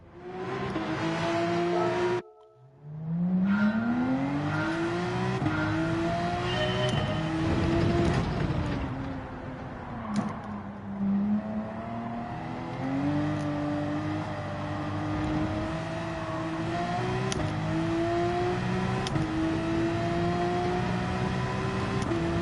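Engine of a Texaco Haviland Porsche race car in Gran Turismo 7, a loud, steady high-pitched drone climbing and dropping through gear shifts, with a brief cut-out near the start before sustained revving continues.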